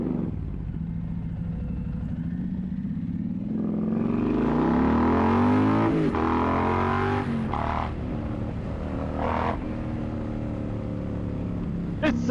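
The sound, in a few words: Indian Pursuit motorcycle with Toce performance exhaust riding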